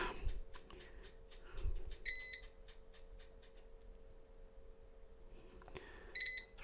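An air fryer gives two short, loud electronic beeps a few seconds apart after being switched on, following a run of soft ticking clicks, with a faint steady hum underneath in a quiet kitchen.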